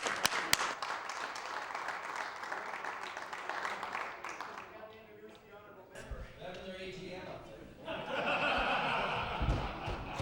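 Applause rises in a legislative House of Assembly chamber as visiting guests are welcomed, a broad wash of clapping mixed with murmuring voices that dips briefly midway, then swells again louder toward the end.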